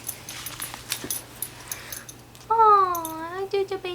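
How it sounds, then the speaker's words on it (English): A pet dog whimpers and whines close by, with soft rustling and small noises first, then a long drawn-out whine followed by shorter whimpers. "This is my dog."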